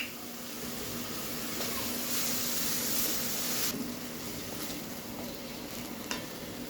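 Tomatoes sauté in a pan with salt, giving a steady, close sizzle and hiss that runs unbroken throughout, with faint stirring scrapes.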